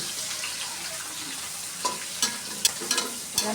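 Oil sizzling and crackling steadily as fish heads fry in a pan, with a few clicks and scrapes of stirring toward the end.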